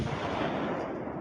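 Cannon fire layered from three separate sounds into one booming effect for a stadium: a dense, sustained rumbling roar that holds steady and ends with a sharp burst, loud and alone.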